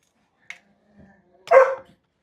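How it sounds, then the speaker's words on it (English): Dogs in a home kitchen give a small yip followed by a louder single bark, both short and close in an otherwise quiet room. "Don't mind the dogs."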